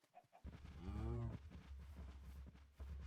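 Minecraft cows mooing as a herd follows along at nightfall, a loud drawn-out moo standing out near the start over a steady low in-game hum.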